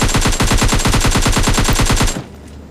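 A loud, rapid burst of automatic gunfire from the video game PUBG Lite, with evenly spaced shots for about two seconds before cutting off abruptly.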